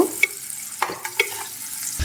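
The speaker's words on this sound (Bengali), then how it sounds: "এই পেঁয়াজগুলো তেলের সঙ্গে একটু ভেজে নেব" Two chopped onions fry in oil with ginger and garlic over a medium flame, giving a quiet sizzle broken by a few sharp spoon clicks as they are stirred, close up and without voices.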